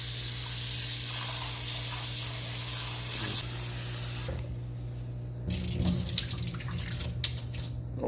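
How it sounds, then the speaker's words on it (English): Tap water runs over saltfish to rinse out the salt, splashing and hissing steadily before the flow changes and the sound turns clattery. "we're gonna rinse off this water, get all that salt out"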